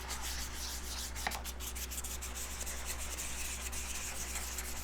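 Hand sanding of a motorcycle fairing with 400 grit sandpaper during paint prep: a steady, continuous abrasive rubbing held close and fairly loud for the whole stretch, with no talk.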